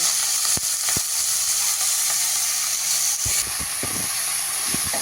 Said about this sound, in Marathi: आता ही धुवून ठेवलेली बारीक चिरलेली मेथी त्यावर घालवून आपल्याला वाफवून घ्यायची